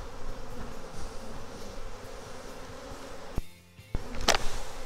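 Honey bees humming steadily around an open hive during a split, a dense close buzz that briefly drops out before resuming with a sharp knock.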